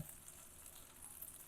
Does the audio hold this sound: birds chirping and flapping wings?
no